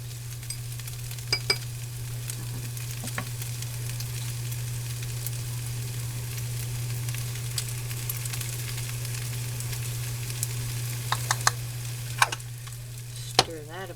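Potatoes and sausage frying together in one pan, a steady low sizzle under a constant hum, with occasional sharp utensil clicks and a few stirring scrapes near the end.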